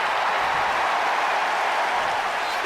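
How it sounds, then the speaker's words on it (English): Broad, steady roar of a wrestling arena crowd in WWE 2K25 Universe Mode, a dense wall of cheering and applause holding at an even, loud level throughout with no clear voice standing out. "Listen to this crowd, driving these competitors to leave everything out in the ring"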